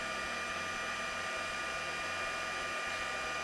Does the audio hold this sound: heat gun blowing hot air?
yes